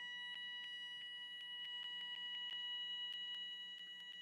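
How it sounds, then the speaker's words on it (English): Smoke alarm chirping at 2 in the morning, a run of sharp high-pitched beeps repeating at an irregular quick pace over a quiet room, fairly faint and steady. "how long has the alarm been going?"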